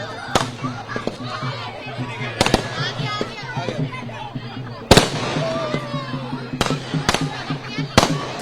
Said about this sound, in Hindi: पटाखों का शोर काफ़ी ज़्यादा होगा पाजी